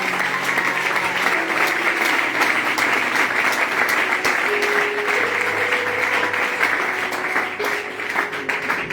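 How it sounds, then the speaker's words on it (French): A church congregation marking an apostle's ten years of ministry applauds the pastor in a sustained, dense wave of clapping that holds steady and loud throughout, with faint tonal sounds beneath. "Est-ce qu'on peut acclamer fortement pour ça?"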